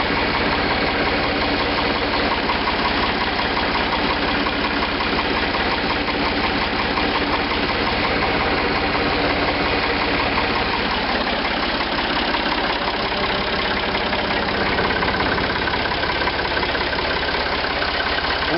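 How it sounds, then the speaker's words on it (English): A 1980s Ford 3600 40 hp tractor engine idles close and loud, a steady, rough diesel chug with a faint knocking rhythm that holds unbroken throughout. "So that's the family's Ford tractor."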